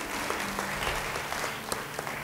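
A church congregation applauds in a steady, dense wash of clapping that runs evenly from start to finish, moderately distant and with no voices rising above it.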